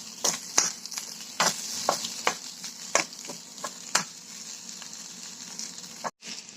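A spoon scrapes and clinks through boiled potato mixed with crushed peanuts in a pan, with repeated sharp knocks over a faint sizzle and no talking.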